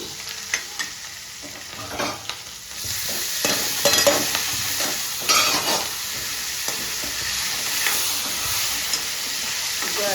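Dry potato sabzi fries in a pan with a steady sizzle while a spoon stirs and scrapes through it. Clanks come first, then a fuller, continuous frying hiss, close up.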